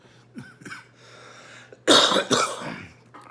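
A person with neck surgery recovery and chest pain coughs twice in quick succession, loud and close, after a few quiet breaths and small throat sounds.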